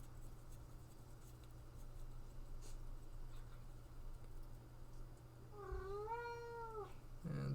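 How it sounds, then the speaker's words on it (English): A house cat lets out one clear, drawn-out meow near the end, close and distinct over a quiet room with faint background hum. "The cat is wanting to get in on the action here."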